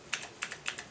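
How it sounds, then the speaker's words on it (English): Keystrokes on a mechanical keyboard with Cherry MX switches, mounted in a retro Commodore VIC-20 styled Mini-ITX case: a few crisp, lightly clicky taps in an uneven rhythm, close and clear with no talking. "Has a nice sound to it, a little bit clicky but not too obnoxiously noisy like some mechanical keyboards can be."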